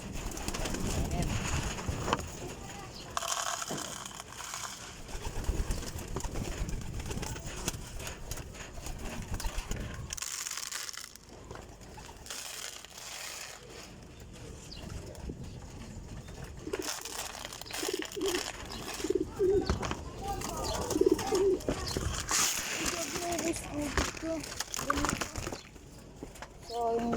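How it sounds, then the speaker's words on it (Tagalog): Pigeons coo repeatedly near and far in a backyard bird area, with soft rhythmic calls mixed with rustling, fluttering and background noise throughout. "Mga kalapatids."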